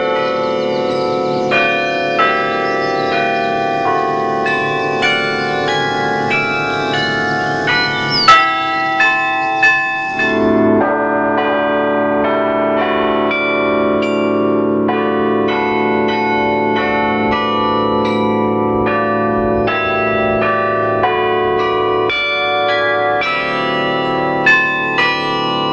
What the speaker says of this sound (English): a carillon of 47 bells dedicated in 1937.